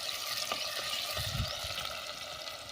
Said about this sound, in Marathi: अशी खमंग फोडणी झाली पाहिजे.